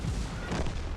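Artillery shell explosion in a tank battle game, a single dense, loud booming rumble lasting about a second, no talk.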